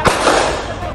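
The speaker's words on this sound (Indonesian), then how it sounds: "Suara tembakan memecah keheningan malam di res area kilometer 45 ruas tol Tangerang Merak." A single sharp gunshot crack at night at a highway rest area, a loud close burst followed by a brief fading noisy tail.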